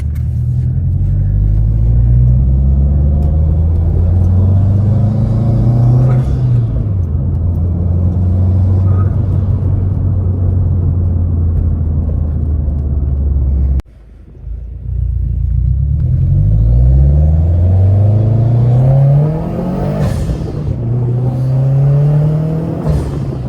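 A loud, raspy 2018 Subaru WRX engine with a Tomei unequal-length header accelerates through gears with rising pitch sweeps, briefly cuts out, then revs and pulls hard again from inside the car.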